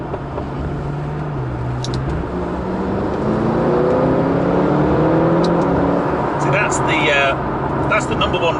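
A McLaren GT supercar's engine builds and rises in pitch as it accelerates hard to overtake another car, a steady drone heard from inside the cabin with voices over it.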